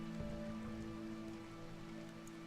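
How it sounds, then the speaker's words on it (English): Soft, steady rain falling in a swamp in the video game RimWorld, a faint continuous patter over a low humming drone, with no voices. "it's beautiful in the swamp when it rains"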